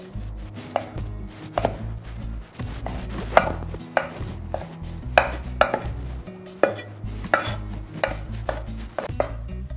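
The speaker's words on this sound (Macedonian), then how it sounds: "Сланината ја сечеме на коцки." Bacon being cut into small cubes on a board for spaghetti carbonara, with steady knife chops in an uneven rhythm, close and fairly loud with no talking.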